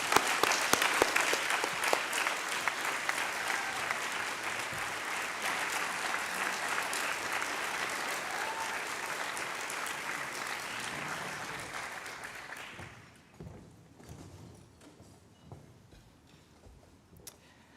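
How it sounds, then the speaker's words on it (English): Sustained applause from an audience at a university student leadership awards ceremony, a dense steady roar of clapping for an award winner that carries on for about twelve seconds before dropping away to scattered claps and quiet. "Join me in applauding the winner of the 2024 Chris Carey Customer Service Award"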